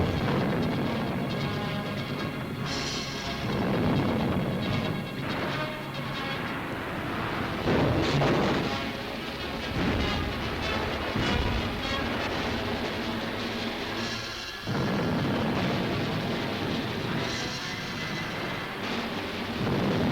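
Buildings blown up in wartime demolitions, rendered as heavy rumbling blasts with rolling booms and crashing debris, loud and continuous over a gritty old newsreel soundtrack.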